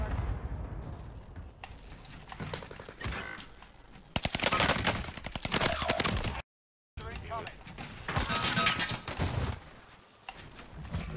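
Bren gun fire in the video game Warzone Pacific rattles in dense automatic bursts with loud explosive cracks, broken by a brief silent gap, while players talk over the action.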